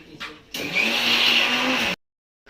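A mixer grinder grinding chutney whirs on after a brief rattle, a loud, steady high-pitched motor whine with a rising tone for over a second before stopping suddenly.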